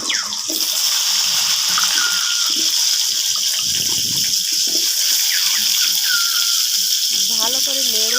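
Cumin seeds, dried red chillies and cut potatoes fry in hot oil with a loud, constant sizzling hiss, close up, while a voice talks over it.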